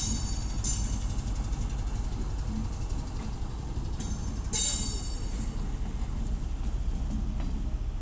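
Class 70 locomotive 70010 passes through Sheffield station with the engine at the rear, a steady low rumble of wagons rolling by throughout, with brief bright squeals and hisses over the continuous roar.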